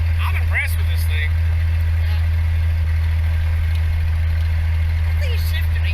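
A 1949 Chrysler with its Spitfire engine drives along, a steady loud low engine drone and road rumble filling the whole stretch, with people talking over it.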